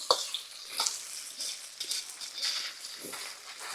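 Onions fry softly in a pan for chicken fried rice, with a faint crackle and irregular scraping and stirring strokes against the pan bottom.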